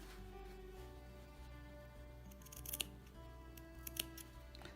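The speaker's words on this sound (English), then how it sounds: "ideally you should cut away some of the excess fabric here so that the corners don't have all the material bunching" Scissors snip excess fabric from a cloth face mask corner, giving a few faint, crisp cuts close by against a quiet hum, with no talking.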